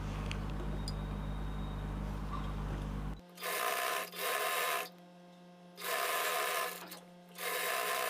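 A sewing machine stitches along a blouse edge in loud bursts of rapid mechanical whirring, three runs separated by short pauses, after a stretch of quieter background hum and handling.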